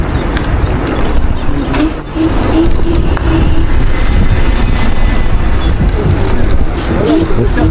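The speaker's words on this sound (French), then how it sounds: "J'aime trop le bruit des moteurs" Dualtron Victor Luxury electric scooter riding, its motors giving a continuous loud rushing drone with wind noise and road rumble, faint high whines appearing briefly.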